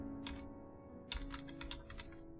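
Keys on a computer keyboard pressed in two short bursts of quick, light clicks, close and fairly quiet over a low steady hum.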